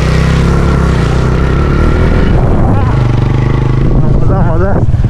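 A motorbike overtakes on a dusty mountain road in Nepal, its engine droning loud and close throughout, with a rising, wavering revving near the end; voices talk over it.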